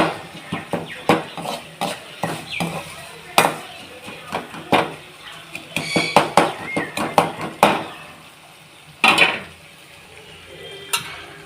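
Onions and turmeric sautéing in a pan for a prawn gravy, with a soft continuous sizzle broken by many clattering spoon strikes and scrapes against the pan, close by, at an irregular pace.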